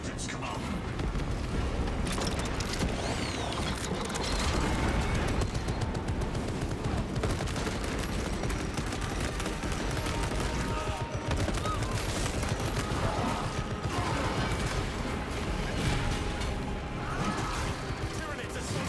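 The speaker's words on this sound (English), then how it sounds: "Alright, I'm gonna activate those turrets." Turrets firing in a space combat game against swarming Tyranids, a dense continuous barrage of rapid gunfire and explosions filling the scene, loud and sustained throughout with busy battle noise.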